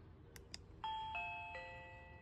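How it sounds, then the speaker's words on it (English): A pair of faint clicks, then a Reolink PoE video doorbell rings out a three-note electronic chime whose tones linger and slowly fade in a quiet room. "Let's see how quick I'll receive a notification when I press the doorbell."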